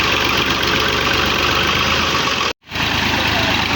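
A tractor's diesel engine idling just after being started: a steady, close, droning rumble, interrupted by one brief dropout partway through.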